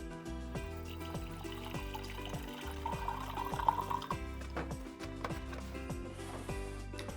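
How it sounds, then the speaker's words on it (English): Vinegar pours into a glass jar in a fairly quiet, continuous gurgling stream with a rising fill tone, no talking present. "So first let's add our vinegar."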